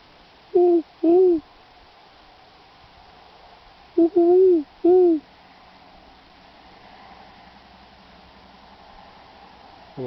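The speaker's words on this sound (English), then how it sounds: "He's hooting back." Outdoors, an owl gives clear hoots in two short groups, a pair and then a quick cluster of three, fairly loud over a faint hiss of background noise.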